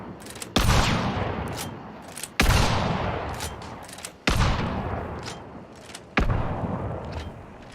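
Shotgun hip fire in the first-person shooter game Hunt: Showdown: four loud, booming single blasts spaced about two seconds apart, each followed by a long echoing tail and rumble.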